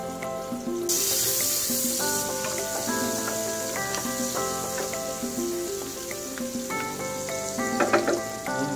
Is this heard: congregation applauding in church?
no